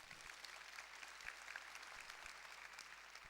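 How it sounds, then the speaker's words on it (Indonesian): Congregation applauding in a church service, a steady wash of many hands clapping together at a moderate distance, continuous and fairly faint for the whole stretch. "Tepuk tangan lebih serius saudaraku."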